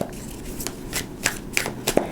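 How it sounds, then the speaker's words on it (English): Tarot cards being shuffled by hand, with several quick riffling bursts and soft slaps spaced irregularly, close and fairly quiet. "2 more shuffles, 8-card spread."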